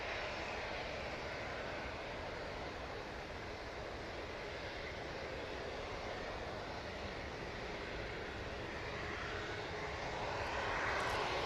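Airliner taking off at Manchester Airport, a loud, steady broadband jet engine roar that fills the whole stretch and swells slightly toward the end, with no voices.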